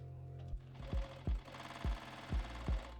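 A sewing machine stitches a quarter-inch seam on a tea towel dress in about six short, rhythmic bursts of whirring, loud and close, with brief pauses between runs and no talking.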